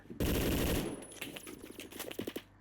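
A G36 rifle fires in a video game: a loud, rapid automatic burst up close, followed by scattered quieter shots and impacts.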